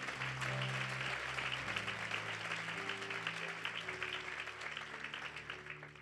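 A church congregation applauding, with dense, steady clapping that holds strong throughout and fades slightly toward the end, a sustained organ-like tone beneath.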